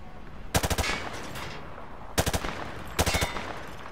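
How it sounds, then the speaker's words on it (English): Rifle fired from the hip in Call of Duty Modern Warfare 2, three loud close bursts of rapid automatic fire, each a quick string of sharp shots separated by short pauses. "Hit the targets while firing from the hip."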